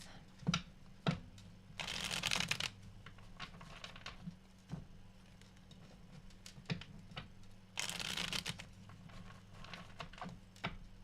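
Tarot cards shuffled by hand in bursts of riffling and soft slaps, two longer shuffles among scattered taps, close and fairly quiet over a low steady hum.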